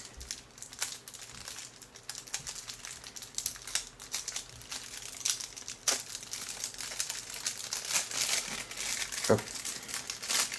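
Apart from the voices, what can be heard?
packaging of action cam mounts being opened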